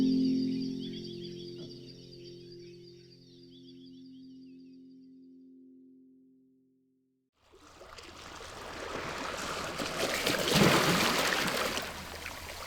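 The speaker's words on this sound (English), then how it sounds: "this is the sound of the ocean coming up onto the rocks in my neighborhood in Maine" Ocean water surges onto rocks along the Maine coast, rising into a broad, rushing wash after a brief silence, with splashing and foamy hiss building loud and close.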